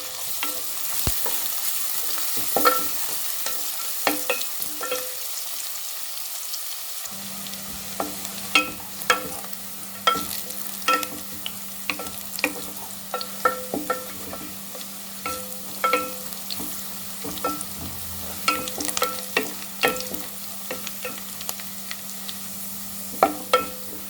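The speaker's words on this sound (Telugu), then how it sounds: "ఉల్లిగడ్డ రెండు వేసి మన ఉల్లిగడ్డ కొంచెం బ్రౌన్ కలర్ వచ్చేంత వరకు ఫ్రై చేసుకోవాలి ఆయిల్లో" Two sliced onions with green chillies fry in oil for a chicken curry. A continuous sizzle runs under frequent spatula clicks and scrapes against the pan, joined partway through by a low steady hum.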